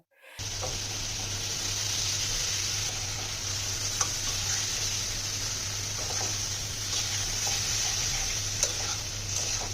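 Fish roe frying in cooked-down chilli spice paste, a steady close hiss of sizzling oil with occasional faint clicks and stirring, even in level throughout with no voices.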